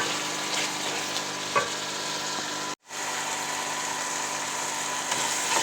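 Mixed vegetables with green chillies and turnips frying in a pan, a steady broadband sizzle heard close up and alone, with a brief cut near the middle.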